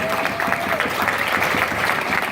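Audience applause for the staff at a regional State of the Region event, a steady dense wash of clapping filling the whole stretch at even loudness with no voices standing out.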